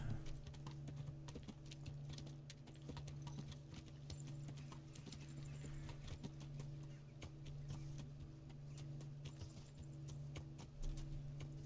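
Horse hooves clip-clop at a steady walking pace in the video game Kingdom Come: Deliverance, an even rhythmic beat of soft hoof falls, faint and quiet throughout without talk.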